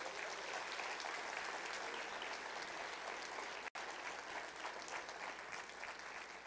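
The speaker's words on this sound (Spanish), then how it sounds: "¿Quién te puede dar un aplauso al Señor Jesús?" Church congregation applauding during a sermon at Templo El Calvario, a steady sustained wash of clapping from many hands with one very brief dropout midway, continuing evenly to the end.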